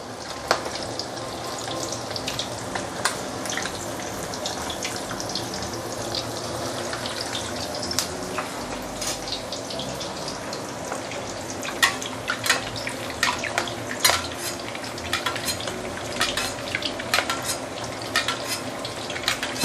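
Meatballs fry in a pan with a continuous loud sizzle and crackle, punctuated by sharp pops and occasional clinks of utensils against the cookware, close and steady throughout.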